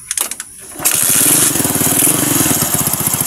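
A motorcycle fitted with a battery-operated 4-pin CDI ignition cranks a few times, then fires up and settles into a loud, steady, rapidly pulsing idle close by, with no talking.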